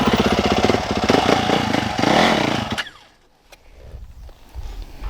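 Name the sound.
Yamaha YZ450FX four-stroke dirt bike engine revving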